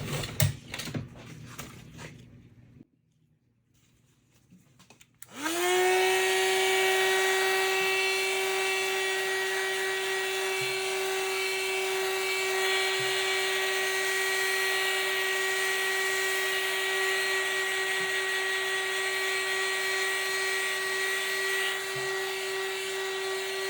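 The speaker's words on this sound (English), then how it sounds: "I'm going to take the heat gun." Heat gun warming freshly poured resin geode coasters, starting with a brief burst of noise, then a near pause, then a loud steady fan whine with a strong hum that holds evenly to the end, with no talk.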